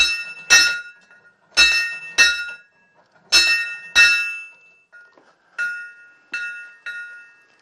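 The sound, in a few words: small bell rung by hand in a cemetery building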